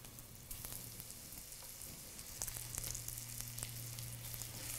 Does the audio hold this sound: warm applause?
no